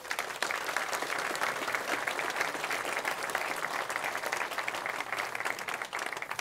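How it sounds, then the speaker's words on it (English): A conference audience at a hacker event's opening talk gives a big round of applause, loud continuous clapping that holds steady for over six seconds. "I really wanted to have a big round of applause for all these people."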